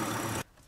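A Mercedes E63 engine idles with a dense, steady rumble that cuts off abruptly partway through, leaving near silence.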